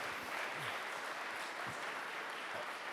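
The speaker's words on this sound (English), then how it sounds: "That deserves a round of applause." An audience in a church breaks into a steady round of applause, a dense, continuous clatter of many hands that holds at an even level throughout.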